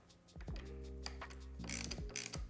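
Ratcheting socket wrench snugging the bolts on ODI lock-on throttle-by-wire grips of a Harley-Davidson motorcycle, a close, quiet series of rapid metallic clicks with a low mechanical hum, in two short bursts.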